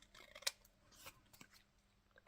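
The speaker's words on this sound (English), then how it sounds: "I could cut the top of the tag off and make a shorter tag. Let's do that. Just trim off the sides." Scissors trim the sides off a paper craft tag, giving a few close, soft snips followed by one sharper, louder cut at the end, with no voices.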